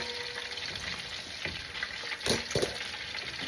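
Shrimp fry in hot oil with a dense, bubbling sizzle that holds steady from start to finish. A couple of brief bursts of spatter and movement rise near the end.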